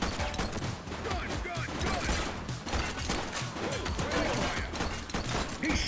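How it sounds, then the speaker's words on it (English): Dense, continuous gunfire rattles through a shootout in The Precinct, bursts overlapping with metallic mechanical clatter, while voices shout over the steady din. "He's shooting!"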